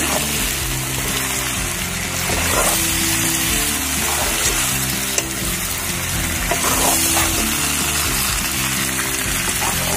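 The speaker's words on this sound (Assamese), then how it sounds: "আলু আৰু কোমোৰাখিনি দিয়াৰ পিছতো মই মাংসখিনি প্ৰায় 10-15 মিনিট ভাজিছোঁ।" Steady, loud sizzling and crackling of local chicken frying in a pan with potato and pumpkin, with occasional stirring scrapes, continuous and close.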